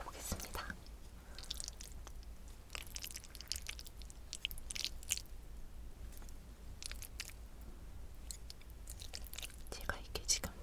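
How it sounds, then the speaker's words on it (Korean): Stir-fried vegetable gopchang (beef intestines) is eaten close to the mic, with soft, faint chewing, squishy bites and occasional crunches, quiet breathy sounds between them. "그러면 곱창부터 먹어보겠습니다."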